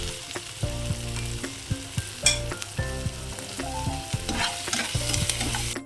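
Fried ivy gourd pieces are tossed with spices, coconut powder and roasted peanuts in a pan, loud sizzling beneath repeated rhythmic spatula scrapes and knocks against the metal, close and steady throughout.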